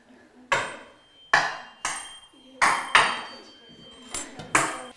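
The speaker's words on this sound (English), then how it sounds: "give you a good hard whack on your table, and then I want you to hold it up to your ear" A tuning fork is whacked hard on a tabletop about seven times at irregular intervals, each strike a sharp close knock followed by a brief bright ringing tail, with quiet gaps between.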